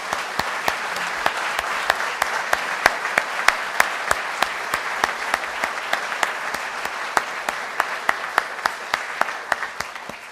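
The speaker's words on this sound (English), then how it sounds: "Let's take a moment to acknowledge and celebrate Mike Chittum and his legacy with a rousing round of applause" An audience gives a sustained round of applause at a Rotary club gathering, dense steady clapping with scattered sharper individual claps throughout, no talking.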